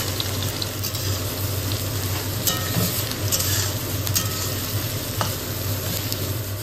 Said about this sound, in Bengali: তেলটা গরম হয়ে আসলে এর মধ্যে দিয়ে দেবো কেটে রাখা পেঁয়াজ কুচি।